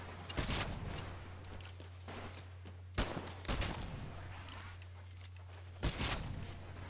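Sharp gunshots ring out during a live fire exercise in Titanfall training, in about four spaced clusters over a low steady hum, fairly quiet overall, with faint footstep-like shuffles between them.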